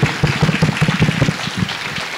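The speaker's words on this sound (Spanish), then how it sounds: "démosle un aplauso fuerte al Señor" A church congregation claps during a Good Friday service, loud rhythmic hand claps in quick, even beats that carry on steadily and soften slightly at the end.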